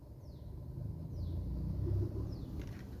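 A Maruti WagonR passes by on a road in Jaipur, a low rumble that swells and fades, heard from inside another car.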